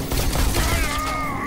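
A grenade detonates in the Bullet Train VR game, a dense rolling blast with crackling debris and gunfire-like bursts that stays loud and continuous for the whole stretch, without any voices.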